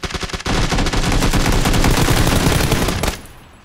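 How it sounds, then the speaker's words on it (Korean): Loud sustained automatic gunfire in the PUBG battle game, a rapid rattling burst lasting about three seconds before cutting off abruptly, with no voices over it. "총소리 하나였는데 총소리는."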